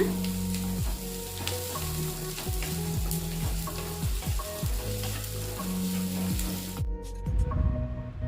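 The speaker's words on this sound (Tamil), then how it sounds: "வெங்காயம் போட்டு நல்லா வதக்கி விடுங்க." Chopped onions sauté in hot oil for a brinjal kara kuzhambu, with a steady, close sizzle and repeated scraping strokes of a spoon stirring through the pan for the whole stretch, ending in a final clatter.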